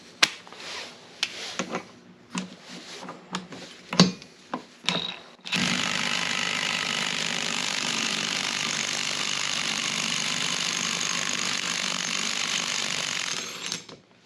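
A pneumatic impact wrench with a socket adapter on a 3/4-inch drive impact socket removes a large bolt, giving a sustained loud hammering rattle of about eight seconds after a few clanks and taps of tools being handled.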